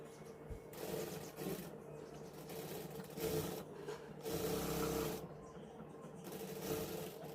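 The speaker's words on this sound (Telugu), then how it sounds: "అది చేసుకున్న దాని మీద కుట్టేసుకోవాలన్నమాట స్టిచ్చింగ్" A sewing machine runs in bursts, stitching along marked lines on a frill-style long frock, with a steady mechanical whir that pauses briefly between runs and continues close up throughout.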